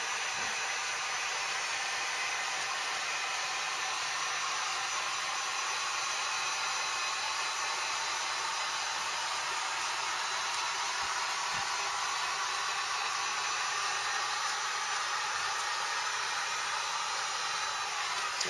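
A heat gun blows steadily while heating a KeelEazy keel guard on a boat hull, producing a constant loud airy whoosh that holds unchanged for the whole stretch, with a couple of faint taps.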